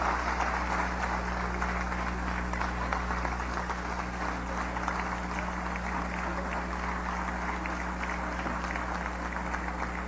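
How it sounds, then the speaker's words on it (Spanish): During an ordinary session of the National Constituent Assembly, a large chamber crowd claps in a continuous, even wash of applause that holds steady throughout, layered over a constant low hum. "Un aplauso."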